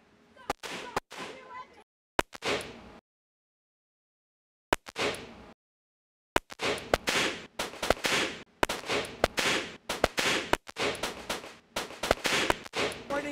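Gunshots are fired at a target at a shooting range: a few isolated sharp cracks, then a rapid string of loud, evenly spaced shots close by.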